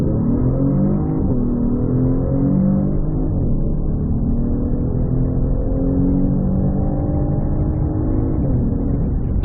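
A 2022 Genesis G70 with the 3.3-liter twin-turbo V6 accelerates hard, its engine note a loud, steady, harmonic drone that climbs and shifts in pitch, heard close with no talking.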